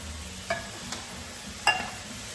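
Chili with canned diced tomatoes stirred in a pot, a low bubbling simmer with a few faint spoon knocks against the side under a steady background hum.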